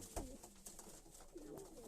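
A pigeon coos a few soft, low calls at close range in a quiet coop on a rainy day, the sounds faint against light background noise, with no talking.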